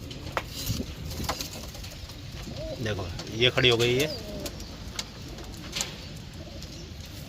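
A white-eyed, white-beaked Malwai pigeon hen coos in a short burst of low, throaty notes near the middle, set under a man's ongoing speech and faint background noise.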